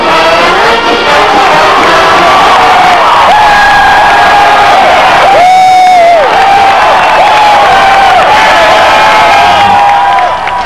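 A huge, loud crowd of football fans roars and cheers on the field after Penn State's Fiesta Bowl win, a dense, sustained wall of shouting and whoops with an announcer's voice over it.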